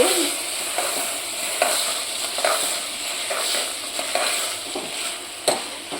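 Sprouted chickpeas, mung beans and moth beans are stirred in a hot pan over a high gas flame. A steady, loud sizzle runs under repeated scraping strokes of a spoon, and no one speaks.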